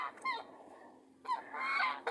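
Hens and a rooster squawk in a loud burst, fall quiet briefly, then let out a longer, harsh, agitated run of cackling calls up close.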